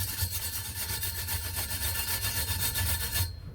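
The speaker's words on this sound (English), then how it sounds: "all you need to do is get a wire brush" A wire brush scrubs welding powder off a Fiat Cinquecento turbo exhaust pipe in fast, rhythmic back-and-forth strokes, a loud, close scratching rasp that stops abruptly at the end.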